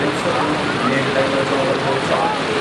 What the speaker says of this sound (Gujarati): ભારે વરસાદ જોવા મળી રહ્યો છે અને રાત્રિથી શરૂ થયેલો વરસાદ છે તે નોન સ્ટોપ ચાલુ છે